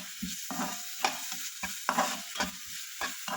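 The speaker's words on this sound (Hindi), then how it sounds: "एक ओनियन और एक टमाटो लिया है, जिसे मैं अभी थोड़ा सॉफ्ट होने तक फ्राई कर लूँगी।" Onion and tomato fry in a pan, a soft sizzle broken by a regular series of spoon scrapes and stirring knocks, close and fairly quiet, with no talking.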